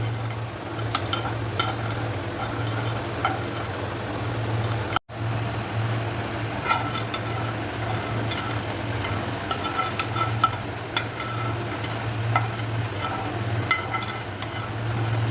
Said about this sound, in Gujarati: તો સૌથી પહેલાં આપણે માંડવી અને તલને રોસ્ટ કરવા માટે લેશું. રોસ્ટ કરશું, એને વ્યવસ્થિત શેકી લેશું.